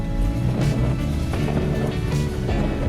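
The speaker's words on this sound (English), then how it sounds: "This thing sounds pretty good, too, for a single exhaust." Low, steady engine rumble from a 1974 Lincoln Continental with a single exhaust, heard from inside the car while driving, a continuous droning hum with road noise and no talking.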